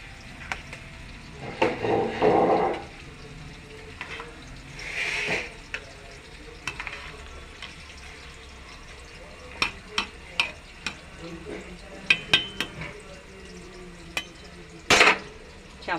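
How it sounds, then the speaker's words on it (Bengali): Moong dal lentil mixture stirred in a pan on the stove, with scattered close knocks and scrapes of a spoon against the pan and some louder bursts of stirring, between quieter sizzling stretches. "এরপর সমস্ত মিশ্রণটাকে একসাথে মিশিয়ে নিয়ে"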